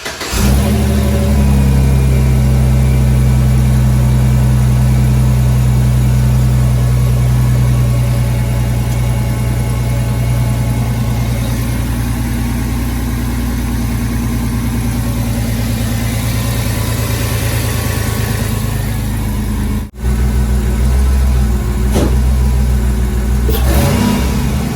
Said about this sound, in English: So let's start the truck up.